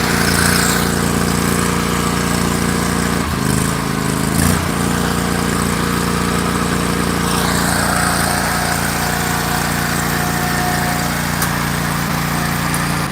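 A Ferris Z1 48-inch zero-turn mower's engine catches and settles into a steady, close, loud drone, with a brief stutter early before it runs evenly throughout.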